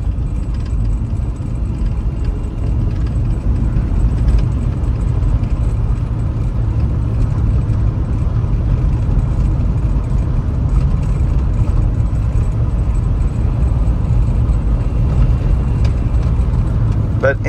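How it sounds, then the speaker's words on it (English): A 1977 Mercedes 450SEL engine idles steadily and close by, a constant low rumble with a faint rattling belt mixed in, running without pause and no talk over it. "Belt is rattling a lot, guys, but it's just something in the back."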